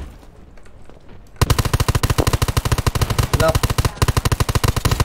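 Gunfire in the zombie PvP shooter Undawn: after a quiet moment, a loud, rapid automatic burst of evenly spaced shots hammers on for several seconds with only a brief pause, while a voice talks faintly underneath.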